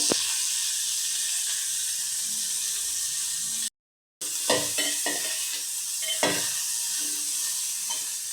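Bottle gourd curry ingredients frying in oil, a steady hiss of sizzling with occasional stirring scrapes, interrupted by a short silent break midway.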